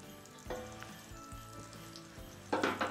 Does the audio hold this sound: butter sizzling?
yes